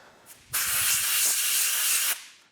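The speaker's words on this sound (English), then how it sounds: "I am going to use a little bit of compressed air just to get the surface sprayed off" A steady, forceful hiss of compressed air sprays onto a 2015 Kawasaki Vulcan 1700 Vaquero air filter for about a second and a half, close and loud, then cuts off.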